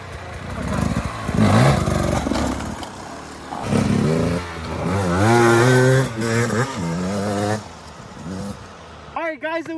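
A Beta 300 RR Race Edition two-stroke dirt bike with smart carb revs and rides nearby in loud, rising and falling bursts of engine buzz, followed by a voice speaking close at the end.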